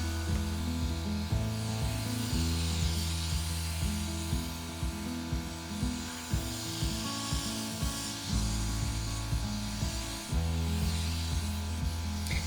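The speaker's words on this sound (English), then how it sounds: "As you can see, I'm getting a lot of overspray." A spray gun paints a truck camper, giving heavy overspray: a steady, close hiss over a low, pulsing compressor-like hum that runs continuously without speech.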